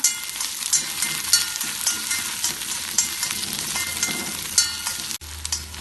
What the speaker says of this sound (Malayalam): ഇത് കുറച്ച് സമയം ഇളക്കി വഴറ്റാം